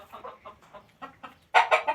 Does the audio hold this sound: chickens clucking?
yes